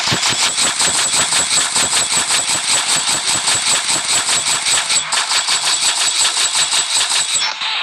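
An AK rifle fires in the Fire Front Line mobile shooter game: a long, rapid, steady stream of automatic shots with metallic ringing, loud and close, continuing without pause and with no talking over it.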